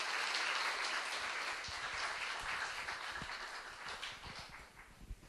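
Students at a youth camp give two classmates a quiet round of applause, the clapping soft and scattered, thinning slightly toward the end.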